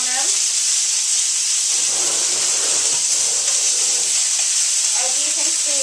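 Rib eye steaks sear in a pan with a loud, constant hiss that sits under a person talking at the start and end.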